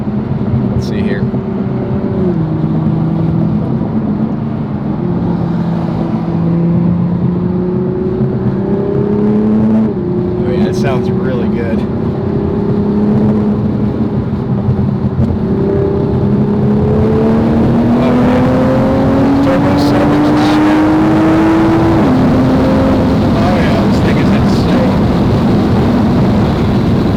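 A 2021 Toyota Supra A90 with a cat-less downpipe exhaust and audible turbo drones loudly from inside the car, its engine note rising and falling through revs, while a person talks over it.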